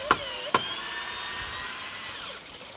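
Two sharp clicks, then a power drill whines steadily up close, its pitch shifting slightly as it drives a partly rounded-over screw in and winds down.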